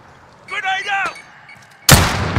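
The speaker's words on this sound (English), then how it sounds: "Grenade out!" A grenade blows up in Call of Duty: Modern Warfare: a short harmonic chirp comes first, then a sudden loud, broadband blast near the end that rings on as a dense roar.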